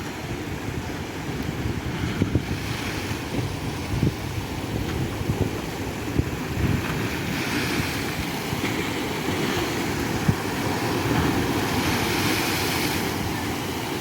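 Black Sea waves in Odesa surge and wash steadily over a pier, with heavy turbulent water noise and wind buffeting the microphone, loud and continuous throughout.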